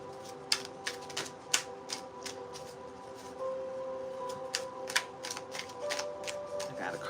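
Someone shuffles a stiff new oracle card deck, a quiet run of irregular soft clicks and riffling snaps spread across the whole stretch.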